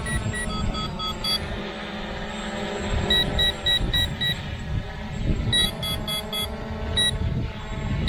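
A Visuo K1 Pro drone emits repeated short electronic beeps in quick clusters, sounding close over a continuous noisy outdoor rumble, with no talking.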